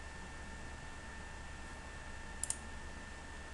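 A computer mouse gives two quick, faint clicks close together, nearly buried in a steady electronic hum and hiss.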